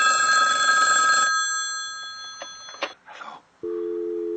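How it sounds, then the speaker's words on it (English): An old-style telephone bell rings loudly for about a second, followed by clicks and rustling handling noises. A steady tone, like a dial tone, starts near the end. "Answer the goddamn phone after less than 8 rings for once."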